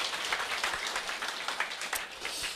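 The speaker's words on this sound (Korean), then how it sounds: "아, 박수." Audience applause in a lecture hall during a Korean business seminar, a steady wash of many hands clapping at moderate volume throughout, with no talk over it.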